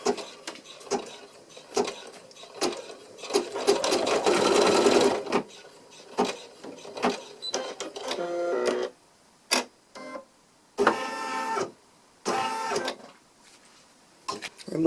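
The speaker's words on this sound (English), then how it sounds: "So now I can go on ahead and stitch that first stitching line." Home embroidery sewing machine stitching an in-the-hoop zipper bag, rapid mechanical needle chatter in bursts separated by pauses and clicks, close and clear with no talk.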